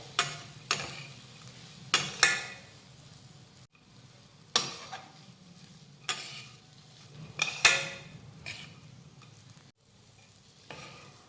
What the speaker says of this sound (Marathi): आता घालूयात भाजलेल्या शेंगदाण्याचा कूट दोन ते तीन चमचे मिक्स करून घेऊयात